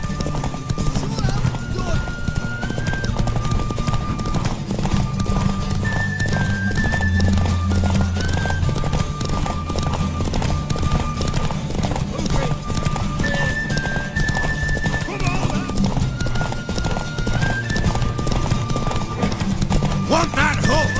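Horses in The Witcher 3 gallop with rapid, steady hoofbeats and neigh now and then, while game music plays and characters talk over them.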